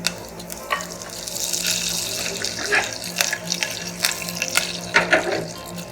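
Curry leaves drop into hot oil with already-popped mustard seeds, setting off a loud, hissing sizzle with scattered sharp crackles that rise and fall across the whole stretch, with no talking.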